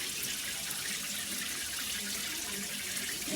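Water leaking and spraying from a Moen Ignite chrome five-function shower head, a steady soft hiss of running water with no pauses.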